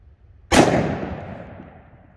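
A single loud 10mm pistol shot fired with Liberty Overwatch 70-grain ammunition cracks sharply and close, followed by a booming, reverberant tail that fades over more than a second.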